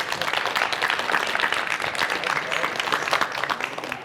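A studio audience at a televised quiz show applauds a contestant who has just finished the round, steady applause under a host's voice.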